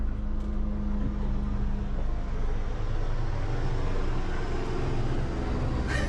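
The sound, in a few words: helicopter flying overhead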